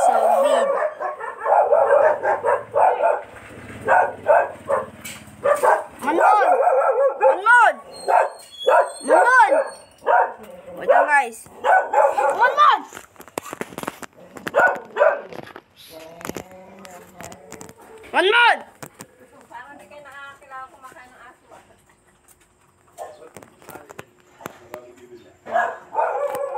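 A dog barks repeatedly and lets out drawn-out howls and yips indoors, bursts coming in irregular clusters with pauses, while a person talks intermittently in between.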